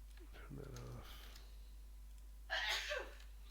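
A short, sharp sneeze bursts out in a quiet indoor room, over a faint low hum, following a few quiet computer clicks and soft speech.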